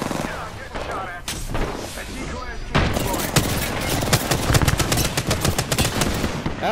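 Video game gunfire, sustained rapid automatic bursts and overlapping shots, loud and close, with heavier fire building in the second half.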